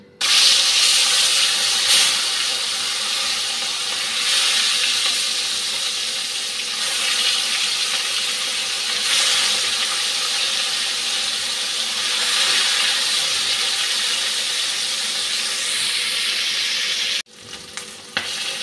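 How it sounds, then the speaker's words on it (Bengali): Loud, continuous sizzling of katla fish frying in hot oil, crackling steadily from start to finish before cutting off near the end. "তেলটাও গরম হয়ে গেছে, মাছটা ভেজে নিচ্ছি"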